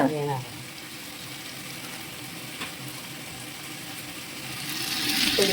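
Tomatoes and spices sizzle steadily in a pan for chicken biryani, a soft, even frying hiss that swells slightly toward the end, with a brief voice at the start.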